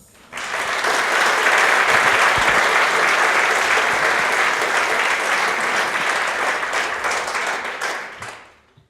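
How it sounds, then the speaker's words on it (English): Sustained audience applause at a Clojure programming conference talk, a dense steady wash of many hands clapping that swells in quickly, holds loud for several seconds and tapers off at the end. "And let's give a warm welcoming applause to Christophe."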